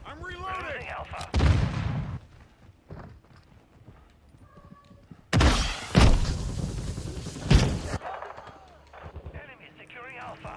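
Gunfire and a grenade blast in Call of Duty Modern Warfare II: sharp close shots, then a loud, sustained explosion roar. Brief voice callouts come through between the bursts.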